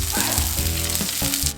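Garlic sizzling hard in hot oil with ginger slices, stir-fried for kung pao pork: a loud, dense hiss throughout the short clip, with tonal sounds running underneath.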